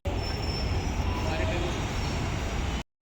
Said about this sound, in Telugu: అప్పుడే మెట్రో ట్రైన్ కూడా పోతుంది